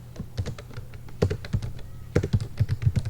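Code is typed on a computer keyboard in quick irregular bursts of crisp key taps with a brief pause in the middle, close and fairly quiet, with no talking.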